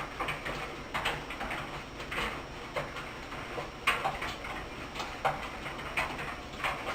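Light rattling and ticking clatter repeats steadily, like objects tumbling inside a rotating drum, fairly quiet and close.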